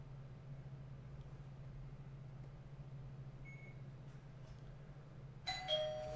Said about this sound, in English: He rang the doorbell.